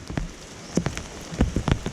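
Rain falls in a short burst of close, irregular drops that patter and splash on a nearby surface, outdoors at a rural home during the rainy season.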